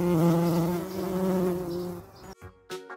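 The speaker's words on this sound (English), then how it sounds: "B is for bee." A bee buzzes steadily and loudly for about two seconds in a children's ABC learning song, followed by brief soft clicks and quieter sounds.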